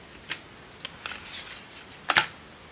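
Scissors snip sticky tape away from scrap paper in a few short, crisp cuts with rustling in between, close and fairly quiet, no voices.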